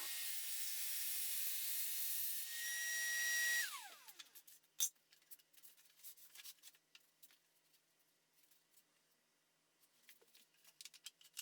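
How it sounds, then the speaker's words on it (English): A track saw cuts an angled line through a bookcase panel in a loud, steady whine lasting several seconds, spinning down abruptly, then followed by scattered light knocks and handling clatter. "just come here with the track, drop it on the line, make my cut"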